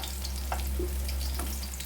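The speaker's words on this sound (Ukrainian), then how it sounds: "Печінка швидко смажиться" Chicken liver frying in a pan with fried onion, a steady close sizzle running throughout with small crackles and occasional stirring, no voices.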